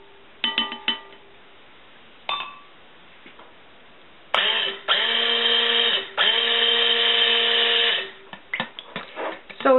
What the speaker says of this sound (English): So I'm going to get my SIG blender and give that a little bit of a stir.